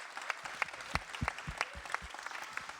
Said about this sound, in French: Qui est un prix spécial, vous pouvez applaudir.